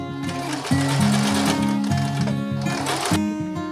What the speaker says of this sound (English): I'm using my free arm and I'm zigzagging my cutoff eyelet to the bottom